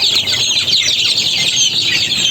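A large brood of pet chicks raised for a chicken-keeping flock peep and chirp together in a dense, loud, high-pitched chorus that runs without a break.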